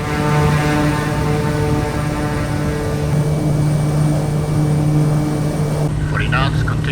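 A Kodiak 100 single-engine turboprop builds power on its simulated takeoff roll, a loud steady propeller drone with a strong low hum that holds constant, ending with a brief higher rattle, while a voice speaks over it.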